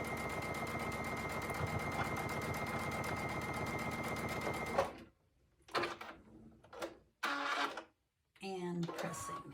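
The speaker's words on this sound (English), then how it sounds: "So let's quickly get this sewn just as before, starting at one end," A sewing machine stitching quilt pieces runs in a fast, steady mechanical whir and rattle for about five seconds, then stops, and a person speaks briefly afterward.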